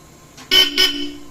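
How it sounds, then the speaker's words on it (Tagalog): Two short, loud Bosch Europa car horn blasts close by from a Mitsubishi Destinator, the second slightly briefer, with a low engine hum continuing underneath. "Ayan, napaka-solid ng busina. Bosch Europa."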